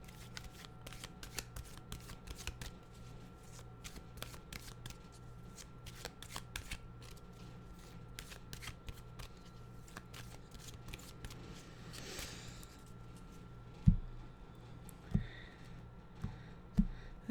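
A deck of tarot cards is shuffled and cut close by, a soft run of quick riffling flicks and slides, followed by a few sharper taps near the end.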